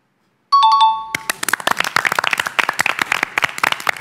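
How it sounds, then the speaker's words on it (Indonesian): A studio quiz show: an answer chime rings out, then a studio audience breaks into scattered, lively clapping that continues close and sharp to the end. "tepuk tangannya paling kencang."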